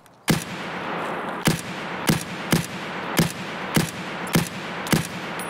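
Gunfire from an SKS rifle in the video game Escape From Tarkov: a run of about eight sharp, loud single shots at roughly half-second to one-second intervals, each with a short echoing tail over steady background ambience.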